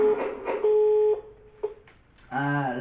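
Telephone keypad tones beep out as a handset is dialed: a steady tone, a pause, a couple of short beeps, then a voice briefly joins at the end.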